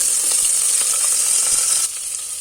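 Chopped onions sizzle steadily in hot ghee with spices, cinnamon, bay leaf and curry leaves for methi matar pulao, a loud continuous frying hiss that eases slightly near the end.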